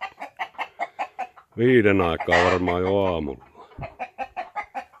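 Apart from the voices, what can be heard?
rooster crowing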